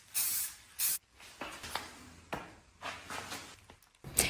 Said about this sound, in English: I start with a clear shellac spray as a primer to help everything adhere and hold up over time.